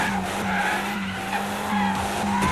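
A race car in Asphalt 8: Airborne drifts with a sustained, loud tire skid over a steady engine drone, the squeal holding throughout with slight pitch wavers.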